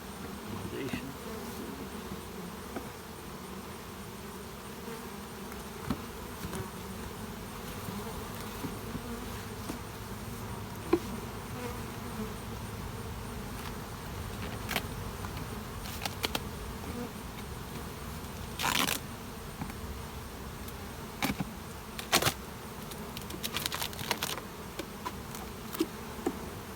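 Honeybees buzzing at an open hive during frame inspection, a steady, fairly faint drone of many bees with occasional nearer buzzing passes and light handling noises.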